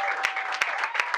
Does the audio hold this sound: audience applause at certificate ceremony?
yes